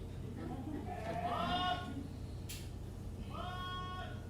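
Sheep bleat twice, one wavering call and then a shorter one, moderately close over a steady low hum of background noise.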